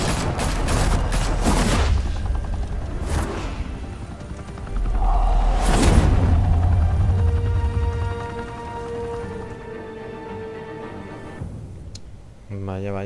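Gunfire in Batman: The Telltale Series: a cluster of sharp shots at the start, then scattered heavy blasts, followed by sustained musical tones and game ambience.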